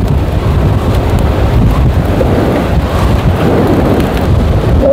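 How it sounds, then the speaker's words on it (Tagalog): Heavy rain during an outdoor bike race, a loud, constant dense roar of downpour with wind buffeting the microphone and low rumbling that may be thunder, steady throughout with no clear voices. "Yan, napakalakas na ng ulan."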